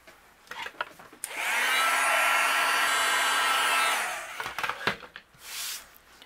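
A heat tool blows steadily for about three seconds, melting white embossing powder on a Halloween card, a loud continuous whirring hiss with quiet handling sounds before and after.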